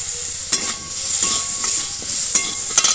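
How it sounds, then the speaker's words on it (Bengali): Vegetables fry in a pan with turmeric powder, a bright continuous sizzle broken by a few sharp scraping stirs, loud and close with no talking. "হলুদ গুঁড়ো দিয়েও আর একটু ভেজে নেব।"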